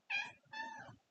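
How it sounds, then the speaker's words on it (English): A house cat gives two quick meows in a row, the first short and bright, the second longer and drawn out, clear and fairly close in an otherwise quiet room. "that's my cat."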